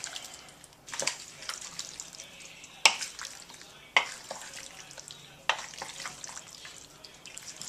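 A spoon scrapes and clatters as seasoning is stirred into chili in a crock pot, giving irregular sharp knocks against the pot over a soft wet churning sound.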